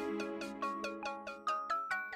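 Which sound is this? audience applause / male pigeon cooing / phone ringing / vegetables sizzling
phone ringing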